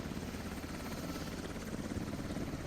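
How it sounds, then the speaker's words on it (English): In the video game Squad, a helicopter engine drones on in a continuous, dense whine with rotor thrum. It is loud and steady throughout, with no talking. "if you're landed at base, turn your heli off. It's so ear-piercing"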